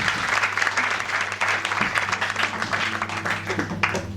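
Church congregation at a French thanksgiving service applauding and cheering, a dense, steady wash of clapping with raised voices and a sustained tonal note from music underneath.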